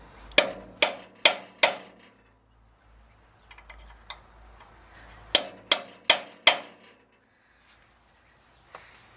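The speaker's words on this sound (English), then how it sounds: "you just take the center punch right on the aluminum right next to it. You just put a dent." A center punch struck against aluminum beside a dropped valve seat on a small engine: two bursts of four sharp metallic taps, evenly spaced, with quiet gaps and a faint tap at the end.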